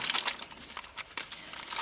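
Plastic packaging around a 13-tooth dirt bike sprocket is torn open by hand, giving close, continuous crinkling and crackling with brief sharper rips and no speech.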